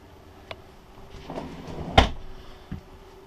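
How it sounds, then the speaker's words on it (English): Large drawer under the sofa of a 2015 Airstream Classic 30J travel trailer opening or closing: a soft slide followed by one sharp knock of the drawer stopping, with a lighter tap just after, close and quiet. "The large drawer under the sofa."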